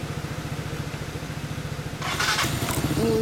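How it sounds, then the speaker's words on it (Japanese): A 2017 Yamaha Cygnus-X scooter engine with a WindJammers full titanium exhaust idles nearby with a rapid, throbbing putter, then a louder, rougher burst of noise joins in near the end. "まだちょっとエンジン音聞かせてもらおうかな"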